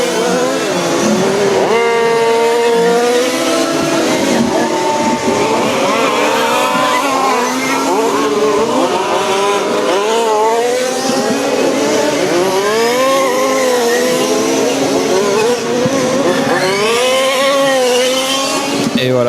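1/5 scale RC Formula 1 cars race on a track at a French championship final, several engines whining and sweeping up and down in pitch as they pass, loud and overlapping throughout.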